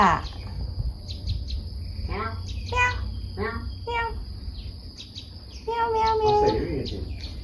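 A house cat meows several times in short, bright calls at close range, mixed with light chirpy sounds and a person talking nearby during laundry washing at home.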